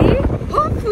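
Gusty wind outside an Asda store buffets the microphone with low rumbling bursts while someone talks briefly over it.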